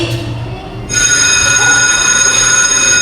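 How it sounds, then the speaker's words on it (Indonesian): A bell rings out loud and steady, its sustained ringing tone starting about a second in and continuing to the end over a low background rumble. "Duh, udah bel."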